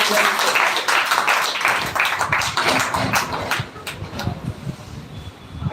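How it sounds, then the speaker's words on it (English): An audience claps at an interview event in India, a lively burst of many hands that thins out toward the end, with some voices underneath. "So please clap for him"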